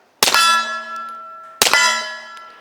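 Two suppressed shots from a Springfield Armory Operator 1911 pistol strike steel targets, each landing as a sharp crack followed by a bright, ringing metallic clang. The shots come about 1.4 seconds apart, close and loud, with no talking.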